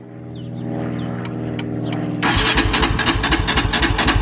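A 450 dirt bike motocross engine whirs through a rising starter crank, then catches and roars into a loud, rapid, throbbing idle close by.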